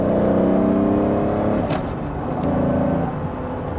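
A Lamborghini Diablo 6.0 engine drones loud and close, with a steady low rumble and a faint rise in pitch, and no one speaks over it.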